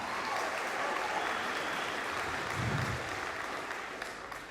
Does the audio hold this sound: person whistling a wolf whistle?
no